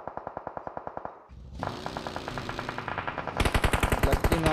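Rapid automatic gunfire in the mobile game PUBG Mobile, a rattling burst of evenly spaced shots, then a denser, louder stretch and finally a sharp, bright close-range volley, with no talk.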